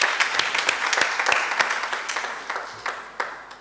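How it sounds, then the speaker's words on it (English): Audience at a school debate competition applauds, giving a moderately loud round of clapping with some distinct individual claps and a slight taper toward the end. "Please give them a round of applause."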